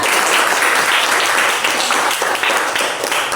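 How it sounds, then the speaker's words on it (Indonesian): A classroom of children clapping together, a dense, steady patter of applause lasting a few seconds. "Tepuk tangan untuk kita semuanya"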